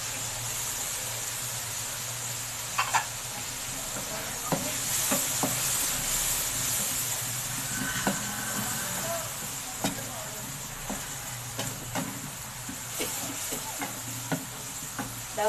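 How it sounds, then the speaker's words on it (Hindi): Qeema masala with yogurt fries in a pan with a steady sizzle, broken by occasional stirring clinks and scrapes, under a faint background hum. "दस मिनट अच्छी तरह भूनेंगे।"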